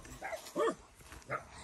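A white dog gives three short barks or yips in a village setting, close and sharp, with brief pauses between them.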